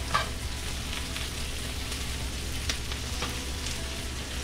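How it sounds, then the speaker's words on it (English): Asparagus frying and blistering in a hot pan, a steady close sizzle with occasional scraping stirs and a few sharp pops. "We'll give our asparagus a little bit of a stir here. That's blistering up nicely."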